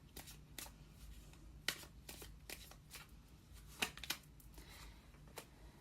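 Tarot cards are shuffled in close, crisp bursts of riffling and slapping, several quick clusters separated by short pauses, with a faint low hum beneath.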